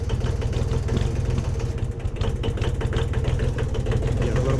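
A Kubota L235DT tractor diesel engine idles with a steady low, knocking chug, loud and close throughout, without any clear start-up.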